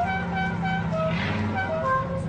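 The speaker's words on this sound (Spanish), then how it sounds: "Es una bocina polifónica." A custom polyphonic car horn on a Dodge Polara sounds several tones at once, playing a continuous musical melody over the hum of an idling engine.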